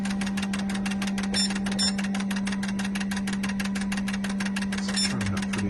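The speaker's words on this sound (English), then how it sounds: "basically I'm just gonna run a cycle through them and see what we get" A fuel injector test machine runs a cycle, giving a steady mechanical hum with rapid, regular ticking pulses close by and no talk.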